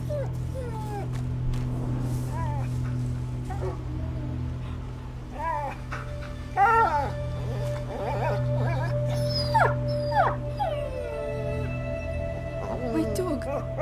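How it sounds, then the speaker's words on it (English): A dog in the video game A Plague Tale howls and whimpers in a long drawn-out sequence of rising and falling cries and yips over a low steady hum, loud and close. "My dog!"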